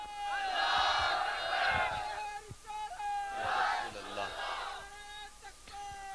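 A crowd at a religious gathering roars a unison response to a slogan in two loud swells, while a nearby voice with a pitched, chant-like tone carries on between them.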